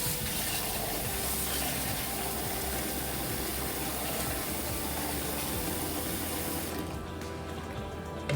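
Warm to hot water running and pouring into a dish holding boerewors sausage ahead of a braai, a steady gushing, splashing flow that continues at an even level and cuts off near the end.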